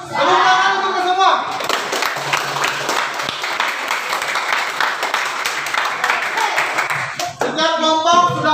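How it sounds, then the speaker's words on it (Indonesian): A classroom of students claps hands together for everyone, a dense, loud burst of applause running steadily through the middle, with a voice speaking before and after it. "Tepuk tangan untuk semua."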